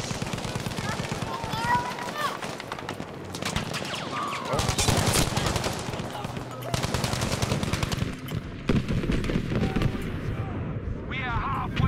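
Battlefield V combat erupts with rapid machine-gun bursts, scattered rifle shots and booming explosions layered densely together, a chaotic, continuous barrage of battlefield noise.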